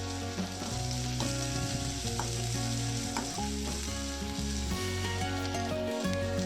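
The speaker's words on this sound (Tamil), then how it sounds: "கருவேப்பிலை, இஞ்சி பூண்டு, ஒரு பச்சை மிளகாய் போட்டு நல்லா வதக்குறோம்." Curry leaves, ginger-garlic and a green chili are sautéed in a hot pan of oil for a potato and green peas fry: a steady close sizzle and crackle with occasional stirring scrapes, alone without talk.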